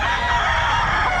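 Golden Boy roosters at a pet market in Bocaue, crowing and clucking loud and close in one brief burst against a dense noisy background.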